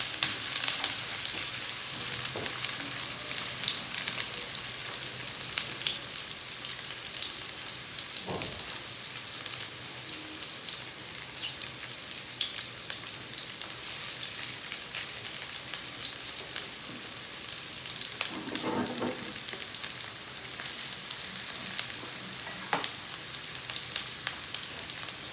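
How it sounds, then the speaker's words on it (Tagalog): Onions sautéing for pork dinuguan hiss in a steady, close sizzle, with a few scrapes of stirring in the pan and no voices. "Lutuin nating maigi yung sibuyas"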